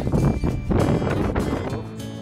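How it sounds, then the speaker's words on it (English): Strong wind buffets the microphone on a high mountain trail near the summit of Humphreys Peak, Arizona, a loud continuous roaring rumble with gusty swells throughout, no talking heard over it. "I doubt you can hear anything because of the wind"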